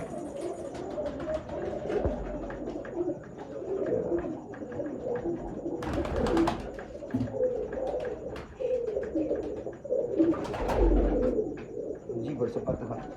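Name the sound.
breeder pigeons cooing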